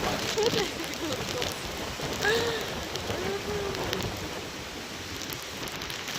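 Heavy rain pounds steadily during Typhoon Uwan, a dense, continuous roar of downpour driven by wind, with a few faint tonal sounds rising briefly over the wash.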